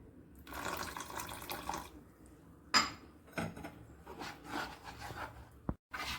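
A splash of water is poured into a bowl of semolina (rava) batter for ravayappam, followed by a spoon clinking and scraping as it is mixed in close by.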